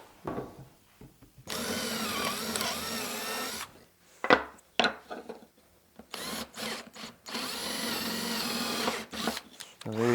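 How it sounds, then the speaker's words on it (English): A power drill works through wood drilling out 7mm holes for a marimba frame, with two long sustained bursts of whirring separated by short clattering bits and brief spoken remarks in between. "Right, now let's just drill out those 7mm holes."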